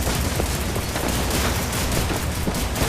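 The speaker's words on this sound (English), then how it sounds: "Have a fucking Tesla grenade!" A Tesla grenade detonates in the shooter Wolfenstein: The New Order, producing a dense, loud, continuous crackling barrage of electric blasts and gunfire-like bursts that fills the whole stretch, with no talking.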